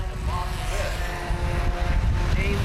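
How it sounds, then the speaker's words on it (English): Front-wheel-drive compact race cars roar around an asphalt speedway at Baer Field in the Asphalt Wars 25, a dense continuous engine drone under a commentator's voice. "Rick James and Jeff Schumadine battling hard in the final few circuits of the Asphalt Wars 25."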